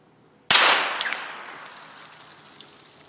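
A single sharp gunshot from a Hi-Point carbine fitted with an ADE reflex sight cracks out at an outdoor range, followed by a long fading echo.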